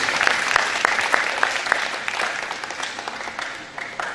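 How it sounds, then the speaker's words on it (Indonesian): A church congregation at a seminar claps, first with several loud rhythmic unison claps, then loosening into a scattered, fading round of applause. "Tepuk tangan buat Yesus."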